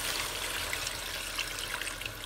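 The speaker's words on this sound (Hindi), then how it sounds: "तो अब हम इसमें पानी ऐड कर लेंगे।" Water poured into a pan of chicken tikka as it cooks for pilau rice, a continuous close splashing trickle throughout.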